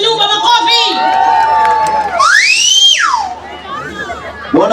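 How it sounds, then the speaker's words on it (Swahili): A crowd at a family gathering in Kenya cheers and claps loudly, and a shrill rising-and-falling whistle or whoop cuts through the noise midway. "Tumpigie makofi"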